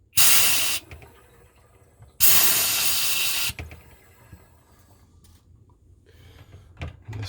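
Pressurised CO2 gas hisses loudly from beer kegs being purged, two strong bursts lasting about half a second and over a second, followed by quieter handling clunks and clicks.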